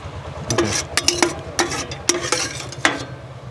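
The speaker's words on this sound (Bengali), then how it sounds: "মাশরুমটা যেটা আমরা ফ্রাই করলাম সেটাকে আমরা তুলে নিচ্ছি" Fried mushrooms for mushroom pakora are stirred and lifted out of hot oil, with a light sizzle under a run of close, sharp scrapes and metallic clinks from a utensil against the pan.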